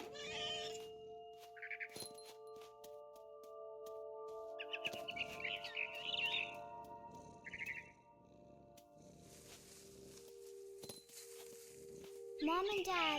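A scared barn swallow in a video game chirps in quick repeated bursts, joined near the end by a cat's meow, all over a faint background hum.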